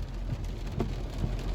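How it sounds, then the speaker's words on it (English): Rain falls steadily during a nighttime delivery drive, a soft continuous patter of drops on the vehicle with a faint low rumble underneath and no talking. "Rain, rain, go away, come back some other day."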